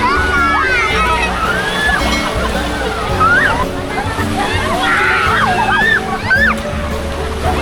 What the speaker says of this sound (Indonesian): Deburan ombak cukup kuat